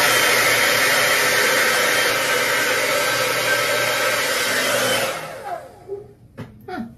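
A hair dryer blows at close range on stretched sections of type 4 hair, a loud continuous whoosh that cuts off after about five seconds, leaving a few faint handling sounds with no speech.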